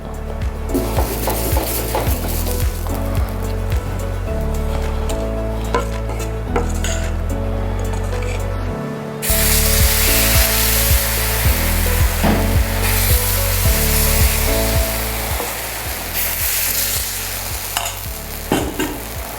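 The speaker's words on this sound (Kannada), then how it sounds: "ಇದೇ ಈರುಳ್ಳಿ ತೊಗೊಂಡು ಸ್ವಲ್ಪ ಉಜ್ಜಿಬಿಟ್ರೆ ಮುಗೀತು" An onion rubbed across a hot dosa pan before the next wheat dosa goes on; loud rhythmic scraping and rubbing strokes with metallic clatter and a sizzling undertone, close and continuous, with no talking.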